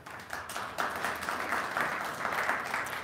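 An audience at a university engineering degree program announcement breaks into applause, a steady patter of many hands clapping at moderate distance through the whole moment.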